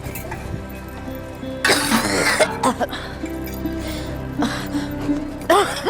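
Several harsh coughs burst out in close succession, loud and near, with a throaty rasp between them over a low background hum.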